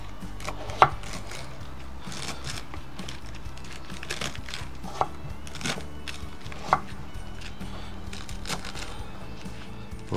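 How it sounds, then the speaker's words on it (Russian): A knife chops vegetables for green borscht cooked in a cauldron over an outdoor campfire, producing sparse, irregular sharp taps against a board with a soft background hum and no talk. "Так, там видно, как я нарезаю хоть это"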